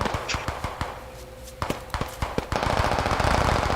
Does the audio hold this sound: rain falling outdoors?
no